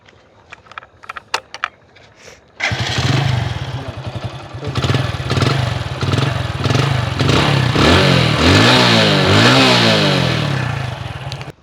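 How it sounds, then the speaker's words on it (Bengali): A Hero HF Deluxe motorcycle engine starts after some light clicks and ticks, then runs with a steady close putter that rises into several revs and eases back down. "এবার আপনাদেরকে গাড়ির ইঞ্জিন সাউন্ডটা শোনানোর চেষ্টা করব"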